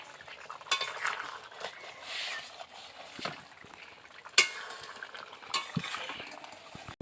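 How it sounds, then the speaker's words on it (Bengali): Fish curry of rohu with fresh spinach, kohlrabi and homemade lentil dumplings being stirred in a pan: scraping spoon strokes and light clinks against the metal, with a soft simmering bubble underneath, close and fairly quiet. "একটু ভালো করে নাড়াচাড়া করে দিই।"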